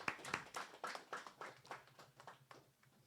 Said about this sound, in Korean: Let's give a big round of applause to true parents for the holy blessing that they have bestowed upon us.